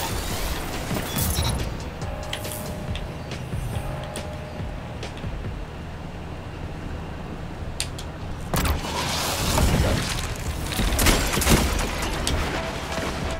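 Gunfire from a pulse rifle and other weapons in a first-person shooter game, with bursts of sharp shots scattered through a busy, rumbling mix and a louder cluster of reports late on.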